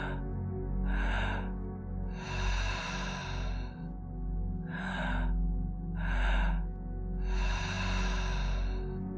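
Slow, deep breaths during a guided breathing exercise, with long airy inhales and exhales repeating in a steady rhythm over a low ambient drone. The breaths are close and clear and no one speaks.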